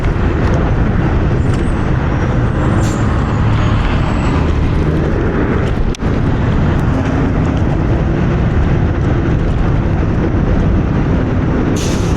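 Constant heavy traffic rumble from school buses in New York City, a loud steady drone with a faint squeal of brakes, and no voices.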